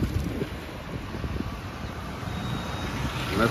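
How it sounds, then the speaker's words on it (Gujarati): Cold morning wind blows across the microphone outdoors, a steady rough rumble and buffeting that swells slightly toward the end, with no voices. "ઠંડો ઠંડો પવન આવે છે।"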